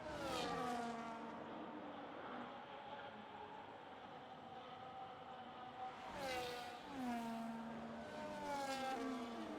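Formula racing cars in a video game race in Australia roar past one another, engines whining and rising in pitch as they overtake, steady and loud throughout with a sharp swell partway through.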